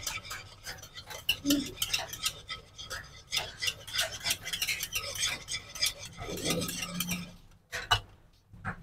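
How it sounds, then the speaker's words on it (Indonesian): Martabak batter of whole eggs and other ingredients being stirred in a bowl, a continuous busy scraping and clinking of utensil against the bowl in quick irregular strokes, fairly close, with some voice in the background. "Kita aduk-aduk sampainya rata."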